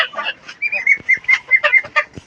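A small egg-laying hen kept at home gives a run of short, sharp clucks in an uneven rhythm, close and clear against a quiet background with no talking.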